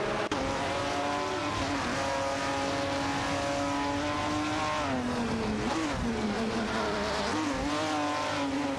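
De Tomaso Pantera GTS and TVR Griffith 200 race cars in a video game, their engines droning loud and steady with shifting pitch as they run neck and neck, with a brief dip and rise in revs.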